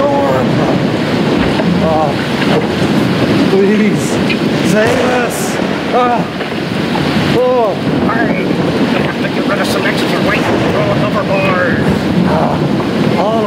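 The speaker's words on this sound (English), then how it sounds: "they'll save us from this terrible storm" Theatrical storm-at-sea effect for a church children's stage play, with steady loud wind and surging ocean noise filling the whole clip while actors shout and speak over it.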